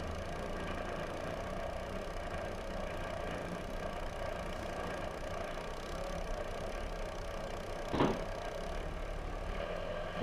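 A twin-engine longtail boat motor runs steadily on a river, a constant loud mechanical drone with dense rumble and a brief sharp knock or splash around the eighth second.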